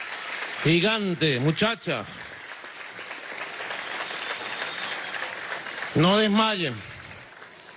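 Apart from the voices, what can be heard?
applause for Olympic medallists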